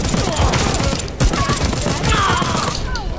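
Dense, loud gunfire in Deathloop, rapid overlapping shots in a continuous fusillade close by, with a voice speaking faintly underneath.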